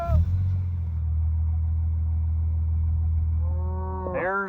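Cattle being loaded onto a truck on a farm, a long, loud, low moo holding steady, with a rising bellow near the end and vehicle rumble beneath.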